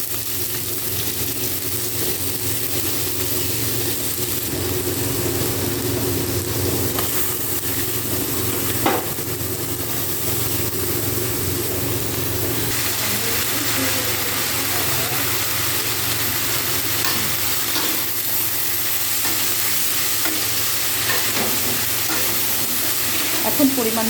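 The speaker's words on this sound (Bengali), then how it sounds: "আলু পটল ভাজাটা আমি প্রথমে করে নেব" Potatoes fry in hot oil tempered with panch phoron and dried red chilli, giving a steady, close sizzle and hiss throughout with occasional stirring clatter.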